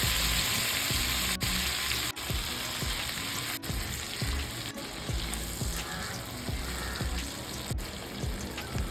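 Chicken pieces sizzle in butter in a pan over a medium flame, a dense continuous crackle and spatter with repeated clicks and pops, close and loud, with no voices.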